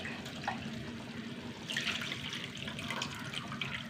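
Squeezed tamarind water poured into a simmering lentil sambar in a home kitchen, a soft steady liquid trickle and splash near at hand, with light rising spatter around the middle, no talking.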